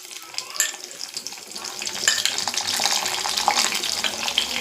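Garlic drops into hot oil in a pan and sizzles steadily, growing louder as it fries, with light crackles and a few utensil clinks close by. No one speaks.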